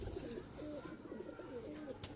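Pigeons coo in a coop, soft repeated throaty murmurs close by over a low background hum.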